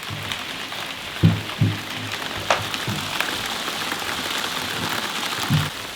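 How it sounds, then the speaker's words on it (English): Marble-sized hail falling outside a small suspended ball-shaped house, a dense steady patter on the surface with several sharper knocks from individual stones, heard from inside with no talking. "Look at the hail."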